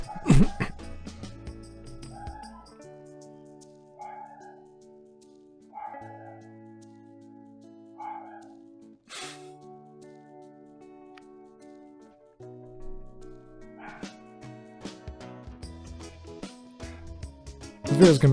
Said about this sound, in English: It's all because the dog started barking randomly.